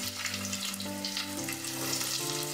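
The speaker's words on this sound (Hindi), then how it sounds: "लहसुन अदरक 2 मिनट भूनने के बाद इसमें प्याज डाल लेंगे।" Onion sizzles steadily in hot oil with garlic and ginger, a close, continuous frying hiss with light crackle. Faint background music plays underneath, and no one speaks.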